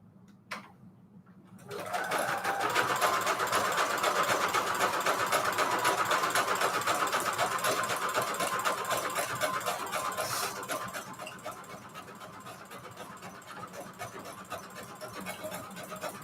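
A sewing machine stitching a zigzag through paper: a faint click first, then a steady close whirring hum with rapid needle ticking that runs for several seconds and eases slightly toward the end.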